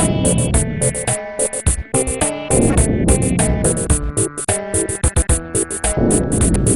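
Bouncy, chiptune-style Super Famicom music from Super Bomberman 3 with punchy synth stabs, bright lead notes and rhythmic percussion, playing loud and continuous.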